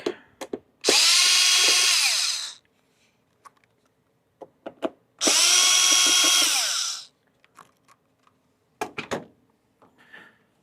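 A power screwdriver removes two screws from the back of a new instrument cluster for a 2014–2017 Mazda 6 Touring. Two loud whirring runs of about two seconds each are separated by quiet clicks and small handling taps.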